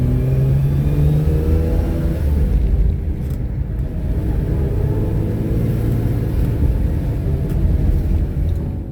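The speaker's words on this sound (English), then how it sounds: "We have a healthy running motor." A 1982 Ferrari 400i with its V12 and five-speed manual runs steadily at close range, a loud continuous rumbling drone with smooth, even harmonics and a faint whistle above, no voices over it.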